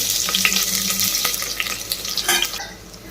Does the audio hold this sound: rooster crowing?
no